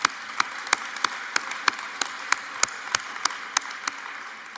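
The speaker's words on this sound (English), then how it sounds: "Let's give him a round of applause." At a school board meeting, a single faint, sparse clap repeats at a steady rhythm over low room noise, like one or two people applauding.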